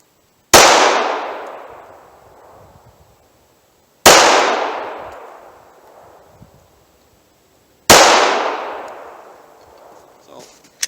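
Three loud, sharp .45 ACP pistol shots fired at targets using 230 grain ball rounds, evenly spaced several seconds apart, each with a long ringing decay into quiet.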